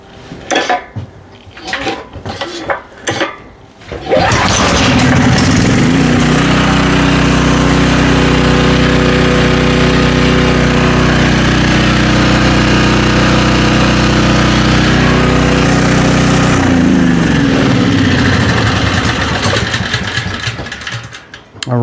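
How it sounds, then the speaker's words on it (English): A Storm Responder generator engine, just repaired, roars loud and close in a steady running drone with a rattling, clattering edge for most of the stretch, preceded by a few short choppy pulls or bursts and tapering at the end. "All right, engine's sounding good and we're getting close."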